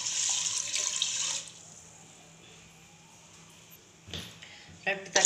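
Water runs from a tap for khichdi with chana dal, a steady hiss at first that drops away, followed by brief clatter as someone talks.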